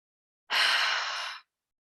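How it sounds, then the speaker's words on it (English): One breathy sigh, close and clear: a quick nasal double inhale blends into a long, steady exhale through the mouth lasting about a second, then silence. "a deep double inhale through the nose, and then a long exhale out the mouth."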